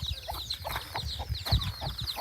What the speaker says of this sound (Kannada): ಈ ಕೋಳಿ ನೋಡಿ